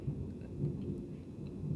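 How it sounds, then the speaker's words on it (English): Low, continuous thunder rumbles steadily from a distant storm, a faint broad roll with slight swells and no voices. "That's thunder."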